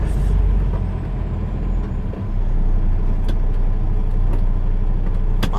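Dense road traffic at 8:10 p.m. on a busy city street: a steady, loud rumble of cars, buses and trucks with an occasional air-brake hiss and brief hisses, continuous and close throughout with no talk.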